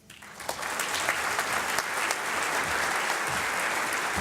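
Sustained applause from an audience at an awards luncheon, a dense steady clatter of many hands clapping from start to finish, with faint crowd murmur beneath.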